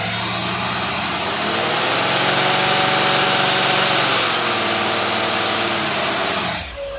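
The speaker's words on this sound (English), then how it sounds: "Now the dyno's on, engaging it like you're going to trace through the mud or the racing" A carbureted engine with a Holley/Pro-Form 750 vacuum secondary carburetor running on a dyno, a loud steady roar that swells as it revs up, holds high, then drops off sharply at the end, with no talking.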